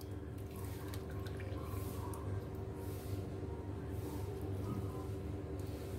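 Water drips and trickles from homemade butter being squeezed by hand, a faint, continuous patter of small wet splashes and squishes under a low background hum.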